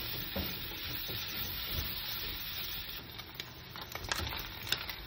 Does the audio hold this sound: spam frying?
yes